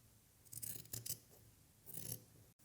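Scissors snip through fleece fabric, cutting fringe strips across the top of a homemade winter hat; two close, crisp bursts of rasping cuts with a brief pause between, no talking.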